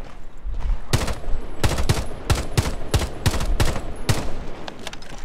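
Gunfire in the video game Rainbow Six Siege: a rapid string of about ten sharp, loud shots in uneven bursts, close and dominant over background game noise.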